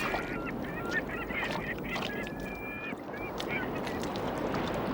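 Gulls call repeatedly around a sea otter feeding on abalone at sea, their cries overlapping in steady bursts over a constant wash of water and wind.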